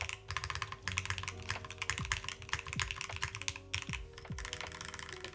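Rapid typing on a custom Class65 V3 mechanical keyboard fitted with force break, keys clacking densely in quick bursts with short pauses, close up and with no voices.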